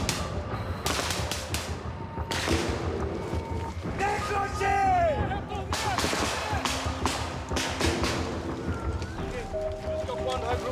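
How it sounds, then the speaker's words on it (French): French Foreign Legion soldiers lay down covering fire in the jungle, sharp gunshot cracks scattered among loud shouting voices, whistling tones and general field commotion. "Et un légionnaire assure des tirs de couverture."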